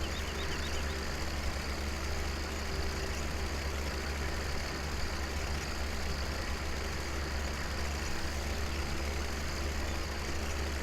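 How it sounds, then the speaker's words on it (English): A tractor engine drones steadily as it drives across a bumpy field in Farming Simulator 17, a continuous low rumble with no speech. "there's the tractor bouncing about"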